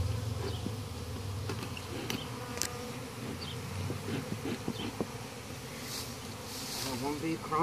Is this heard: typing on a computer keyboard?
no